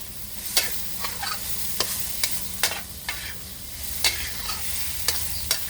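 Luffa and red chili stir-fried with pork in a pan, with a spatula scraping and clattering at an uneven rhythm over a steady close sizzle, no voices.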